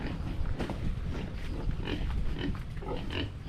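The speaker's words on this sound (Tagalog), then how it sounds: "Ito yung baboy, guys, na lulutuin natin." A pig meant for roasting as lechon grunts and snorts steadily at close range, a continuous rough, busy sound with no talking over it.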